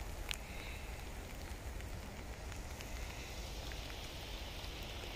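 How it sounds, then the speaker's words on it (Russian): Prolonged May rain falls outdoors, a soft, steady patter and hiss that stays constant and fairly faint throughout. "А сейчас он совсем не нужен мне, такой затяжной дождь."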